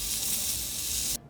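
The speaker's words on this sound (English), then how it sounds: "Now I think they're ready to start throwing on the grill" Mushrooms sizzle on a barbecue grill in a steady, bright crackling hiss that holds evenly throughout before cutting off abruptly at the end.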